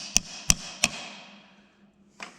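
Three sharp, evenly spaced metal blows of a hammer driving an 18 mm socket onto a stuck bolt on an antique Caterpillar RD4 transmission, ringing briefly and close, followed by a fainter single tap.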